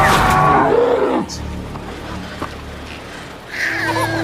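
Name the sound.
large wild bear in a film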